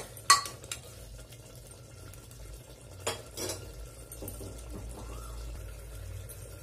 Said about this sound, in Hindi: मटन हमारा पक रहा है, अब हम इसे बीच बीच में चलाते जाएंगे